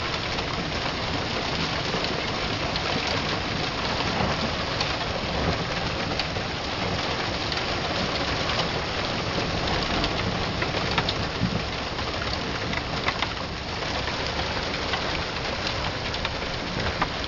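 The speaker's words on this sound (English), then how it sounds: "Yeah, that's not snow, that's hail on the ground there, people." Hail pours down steadily during a spring thunderstorm, a dense, constant patter and hiss of stones striking the ground and nearby surfaces, loud and unbroken throughout.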